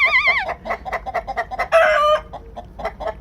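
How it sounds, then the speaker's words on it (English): Chickens and roosters in a coop cluck in quick, repeated bursts close by, with a loud rooster call breaking in partway through. "There's roosters in there."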